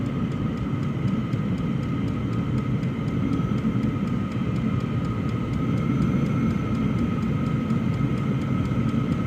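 An E-8 diesel parking heater runs just after its glow plug start, a steady droning roar of combustion and fan with a constant hum and no break or voices.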